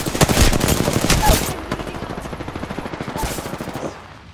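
Rapid automatic gunfire from a weapon in the Apex Legends battle royale game rattles in steady close bursts, loud and rhythmic, with a brief heavier flurry near the start before tapering off.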